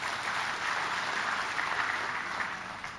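An audience applauds guests at a leadership gathering who travelled 35 hours to attend, a steady, fairly quiet wash of clapping hands holding even for about three seconds.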